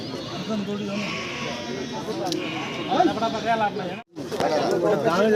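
Goats at the crowded Nishiganj goat market let out several wavering, nasal bleats close by, rising over a constant hubbub of chattering buyers and sellers.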